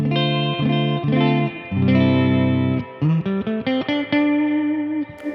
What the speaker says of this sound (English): that's the full amount of reverb you can have